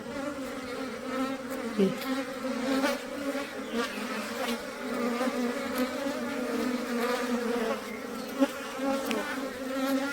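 Many honeybees buzz continuously at close range, a dense droning hum with individual bees flitting past now and then.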